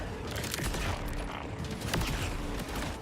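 Rapid gunfire from a sticky-bullet weapon in a video game, a dense rattling volley of shots that stays loud and continuous throughout.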